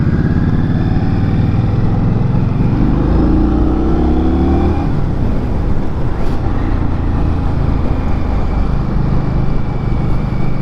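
A 2022 Indian Scout Rogue motorcycle is ridden, its engine droning loud and steady with rising revs and gear changes, then settling into a constant cruising hum with wind rush and no talking.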